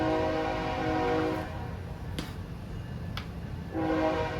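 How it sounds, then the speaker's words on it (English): A train horn sounds in two sustained blasts, one at the start and one at the end, with a quieter rumbling pause between, heard at a distance and fairly faint. "Drink every time you hear a train whistle."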